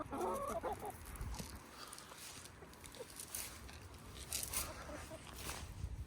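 Chickens cluck softly nearby in short, scattered bursts over quiet outdoor ambience, with a faint voice now and then.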